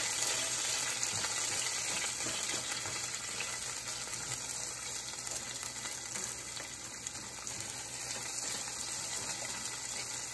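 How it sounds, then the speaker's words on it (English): Onions and chili frying in a pan over above-medium heat, a steady hissing sizzle that holds constant and close, no talking. "We are going to fry until onions are soft"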